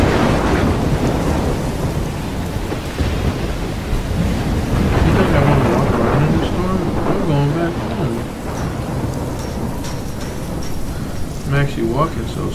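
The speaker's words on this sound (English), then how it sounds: "Oh, I'm in the storm again." Heavy rain and a blustery thunderstorm roar steadily in a video game scene, with low rumbles rolling through while voices talk and chatter over the top for the whole stretch.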